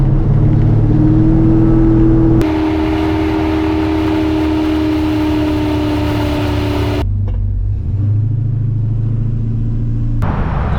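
A 1968 Pontiac LeMans drives along with a loud, steady engine drone and road rumble, the tone shifting abruptly a few times as if the gear or throttle changes.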